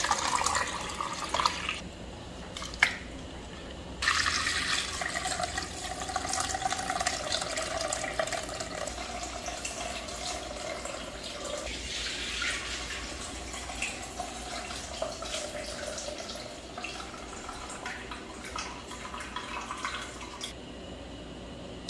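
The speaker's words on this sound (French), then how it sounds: "Je vais ajouter de l'eau" Water pouring into a cooking pot while preparing a Haitian dish of vegetables with cornmeal and black beans, a steady close splashing fill that runs on for about twenty seconds, with no one talking.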